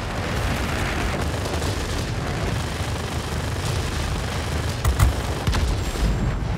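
Aircraft cannon fire in a World of Warplanes battle, a dense continuous roar of rapid shots and engine noise blending into a loud, unbroken barrage.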